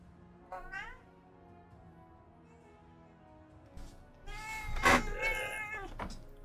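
A cat meows twice, a short rising call near the start and a louder, longer meow around the middle, close by and over a quiet room background with faint low hum.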